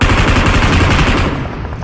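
Gunfire from a mobile shooter esports match rattles out in a dense, loud automatic burst of rapid shots that fades slightly at the end.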